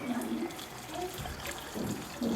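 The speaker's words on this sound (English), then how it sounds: "So now I'm going to add my beef broth." Beef broth pours into a pot for a baby's soup, giving a continuous close liquid splashing and gurgling that lasts the whole moment.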